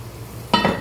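Water goes into a hot cooking pot of rice bukhari seasoned with ginger, garlic, salt and spices, a sudden sizzling splash bursting out after a quiet moment and hissing briefly.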